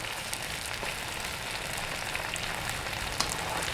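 Shallots and garlic frying in a pan of hot oil make a steady, dense sizzle that stays even and close throughout, with no talking.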